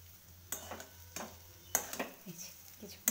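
Sweet potato being stirred in ghee in a pan, quiet sizzling beneath a series of irregular spatula scrapes and clinks against the metal, with a low steady hum underneath.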